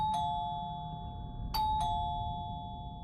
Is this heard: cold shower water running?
no